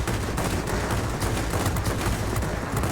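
Machine guns on a Ki-94-II fighter plane in World of Warplanes, firing a dense, continuous rattling stream throughout with a steady roar and no break.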